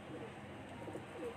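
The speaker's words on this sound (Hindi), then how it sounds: "ये पामोश कबूतर है ये, जुम्मन का उड़ता हुआ कबूतर है" Soft, faint cooing of a pamosh pigeon, a racing pigeon flown in competitions, heard as low murmuring coos over background noise.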